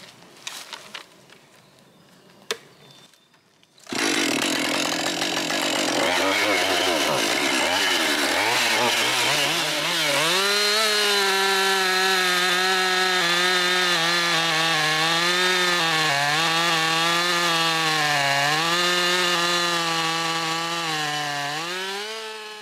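Gas chainsaw trimming an ash log in the woods: a few sharp knocks, then the saw starts up loud and close, revving up and down as it cuts through the wood.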